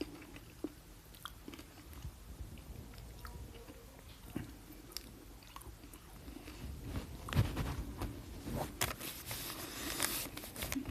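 Close, faint crunching and chewing of a Galaxy Honeycomb Crunch chocolate bar with honeycomb pieces inside, with soft irregular bites and mouth sounds through most of the stretch and no talking.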